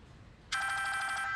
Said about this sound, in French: Ah, mais un téléphone sonne.